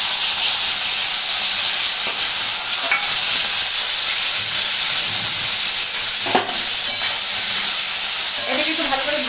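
Shelled prawns coated in salt and turmeric frying in oil, a loud continuous hissing sizzle with occasional stirring clinks close by, no talking.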